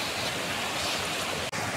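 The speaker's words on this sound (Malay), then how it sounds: "Ni hujan." Rain falls steadily in Bentong, Pahang, Malaysia, a dense, even hiss of drops with no distinct impacts, close and constant throughout, with no one speaking.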